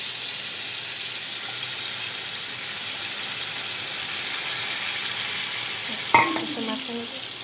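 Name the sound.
tomatoes frying in a pan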